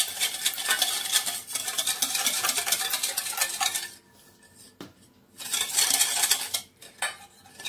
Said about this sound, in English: So I'm going to stir together.